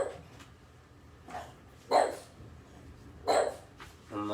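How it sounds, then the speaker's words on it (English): A dog barks twice, short sharp woofs about a second and a half apart, at moderate distance over quiet background noise. "And that's Roxy barking at the wind again."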